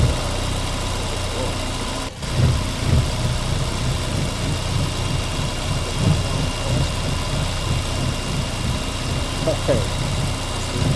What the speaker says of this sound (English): that car's so loud